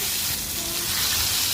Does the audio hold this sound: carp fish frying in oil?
yes